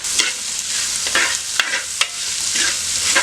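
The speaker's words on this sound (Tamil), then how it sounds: "வெங்காயம் நல்லா வதக்கிட்டோம்" Small onions and green chilli sauté in a pan, a close sizzle broken by repeated sharp scrapes and clicks of a spoon stirring, with no one speaking.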